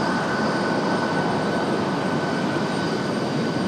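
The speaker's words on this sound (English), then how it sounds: "you hear the E-175 getting out of the alleyway here" An Embraer E-175 jet taxis at Raleigh-Durham airport, its engines making a steady, close broadband roar with a sustained whine on top.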